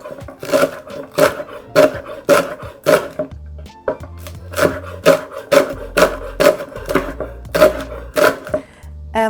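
A knife thinly slicing spring onions on a board, producing a steady rhythm of crisp, close chopping taps in quick regular runs with brief pauses between them.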